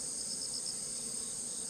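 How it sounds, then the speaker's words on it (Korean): Giant hornet buzzing near a beehive in a beekeeping yard, a steady, continuous high insect drone with no talk. "이거 장수 말벌하네"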